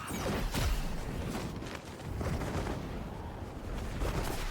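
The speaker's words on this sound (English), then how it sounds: "there's all sorts of gunshots that way" Bursts of Fortnite gunfire crackle in quick succession, loud and somewhat distant, over a dense rumbling backdrop with no speech.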